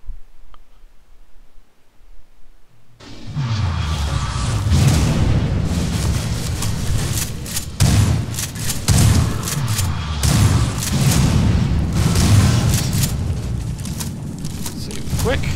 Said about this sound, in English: quit it with the explosions